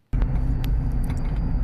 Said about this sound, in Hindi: गाड़ी का इंजन गर्म करना पड़ता है